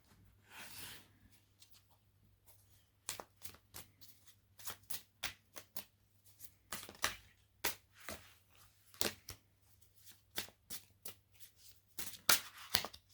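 Oracle cards being shuffled for a card reading, a quick series of crisp riffling and slapping bursts, close and fairly quiet, with no talking.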